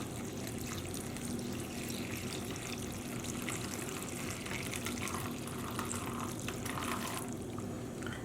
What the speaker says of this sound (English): I'm here with another 8 cups of tap water.